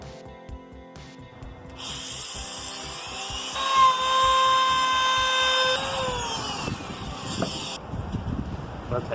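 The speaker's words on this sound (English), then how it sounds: "I'm going to trim that, and then I'll go ahead and route it." Power router trimming wood casing on a house addition, a sustained high whine that spins up after a few seconds, holds steady, then winds down, with faint voices around it.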